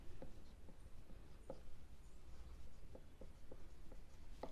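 Pen strokes scratching on paper while a maths solution is written out, a series of short, separate scrapes over a steady low background hum, close and quiet.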